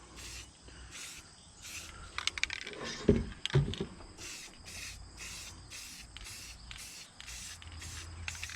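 An aerosol can sprays brown paint onto a duck boat in short, repeated hissing bursts, rhythmic and close, with some clattering handling noise in the middle; no talking is heard.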